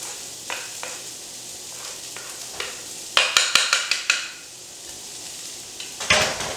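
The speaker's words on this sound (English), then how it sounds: "we'll stir fry that for about a minute. Keep it moving." Chillies, onion, ginger, lemongrass and garlic being stir fried in a wok, with a soft sizzle, scattered scraping and clinks of a utensil, and a quick burst of rattling stirs midway before a louder sizzle at the end.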